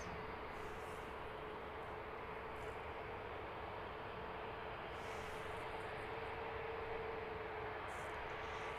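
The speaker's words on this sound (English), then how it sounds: "You're looking at EasyJet flight 2436. This one in from Paris Charles de Gaulle. 50 minutes flight over from France. It's an A320neo." An EasyJet Airbus A320neo arrives at London Luton Airport, heard as a faint, steady distant jet roar with a thin whine, without speech.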